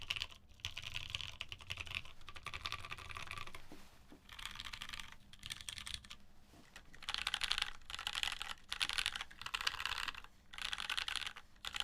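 Fast typing bursts on a cold, heavy brass mechanical keyboard fitted with Hyperglide brown switches, crisp and close, in irregular runs separated by short pauses, with no talking.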